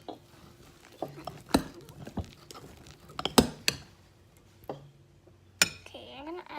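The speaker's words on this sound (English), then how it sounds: "And some body lotion. I think that's good. And you stir it." A utensil stirs homemade shark slime mixed with body lotion in a bowl, making scattered clinks and scraping taps against the container, close and moderately loud, with quiet voices in between.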